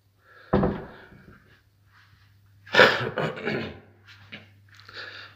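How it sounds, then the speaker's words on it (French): A house door being shut, a sharp close thump followed later by a louder clatter and a few smaller knocks, heard near over a low steady hum. "je ferme la porte"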